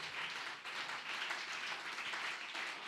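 A church congregation applauds, giving a dense, continuous wash of many hands clapping at a moderate distance, with no voices standing out.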